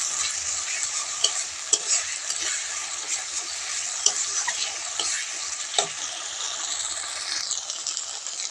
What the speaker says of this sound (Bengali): শুকনো লঙ্কার গুঁড়োটা দিয়ে মশলাটা আমি ভালো করে কষিয়ে নেব